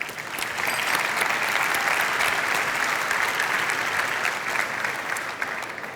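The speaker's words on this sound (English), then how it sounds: "let's give them a big round of applause" A large audience applauds the judges at the Slush 100 startup pitch finals at Slush 2025, a dense, sustained wash of clapping that holds steady and loud from start to finish with no talk over it.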